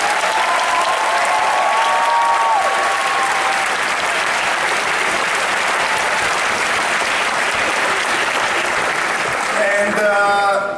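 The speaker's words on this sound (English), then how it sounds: "please make a big applause for the organizers" A crowd at the AEGEE Agora Bergamo 2016 opening ceremony applauds the organizers, sustained loud clapping with a few faint whistles and cheers, easing toward the end as someone starts speaking.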